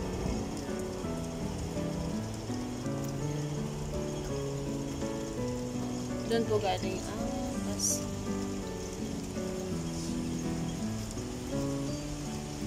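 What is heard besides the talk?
rain falling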